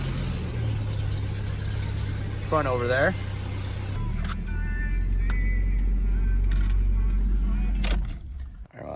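Close engine idle and low rumble of a Toyota 4Runner being moved out of the way, with a shift in engine note partway through and a door or clunk near the end. A person talks briefly.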